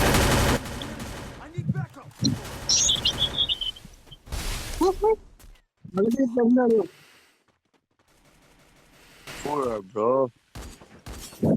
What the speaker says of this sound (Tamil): புல்லட் மேல இருந்து வருது ப்ரோ.